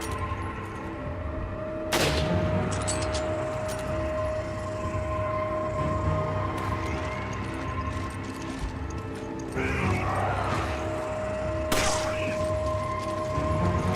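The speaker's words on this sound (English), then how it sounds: "You can use the sniper rifle to dispose of a few of these enemies" Sniper rifle shots in Resident Evil 5 in a cave setting: two sharp, loud cracks several seconds apart over a steady mechanical hum and game ambience.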